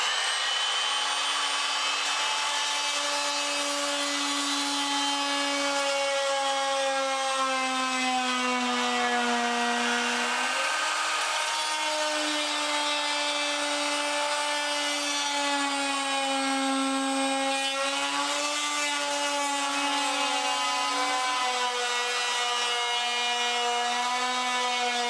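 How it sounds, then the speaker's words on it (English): A Chicago Electric oscillating multifunction power tool cuts along a line in wood with a loud, continuous buzzing whine. Its pitch dips and wavers as the blade bites, and it stays close and steady throughout with no speech. "now I'm going to power up the tool. I'm just going to cut along the line"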